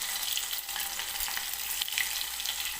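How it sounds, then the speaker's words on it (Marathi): Garlic frying in hot oil for a dal tempering, a dense, steady crackling sizzle close up, with slight surges as the pan is stirred. "हलवून घेते म्हणजे लसूण सुद्धा एकसारखा तेलामध्ये भाजेल"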